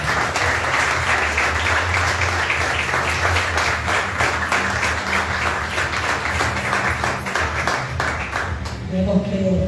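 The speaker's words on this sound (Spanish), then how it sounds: "Pídele un fuerte aplauso al Señor." Church congregation bursts into strong, sustained applause praising the Lord, many hands clapping loudly and continuously with voices mixed in, before it thins out near the end as music tones emerge.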